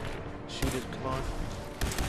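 Gunfire in the video game Fallout 4 during a Mirelurk Queen boss fight, dense bursts of shots and booms over a noisy battle mix, with a sharp crack near the start and another near the end.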